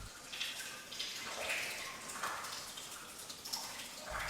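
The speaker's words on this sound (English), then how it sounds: "The only sound in the cave is that of the flowing of water." Water flows steadily along an underground river inside a huge cave chamber, a soft, continuous wash with faint splashy swells and no voices.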